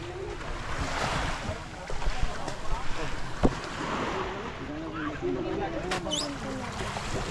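Fishing boat engine and splashing water on open sea off Cabongaoan Beach, Burgos, Pangasinan, with wind buffeting and faint voices in the background.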